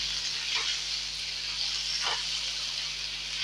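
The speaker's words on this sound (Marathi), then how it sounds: "ह्या अळकुड्या आपण फक्त परतून घ्यायच्या आहेत" Taro (arbi) pieces sautéing in a pan over medium heat give a steady, soft sizzle with a couple of brief stirring scrapes, close and continuous with no talking.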